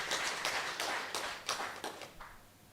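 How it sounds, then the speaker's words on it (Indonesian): A congregation applauds at a New Year's church service, a short patter of handclaps that fades toward the end. "Tepuk tangan dulu untuk kita"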